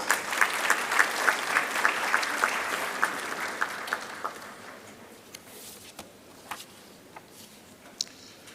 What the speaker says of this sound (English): Shall we give him a round of applause?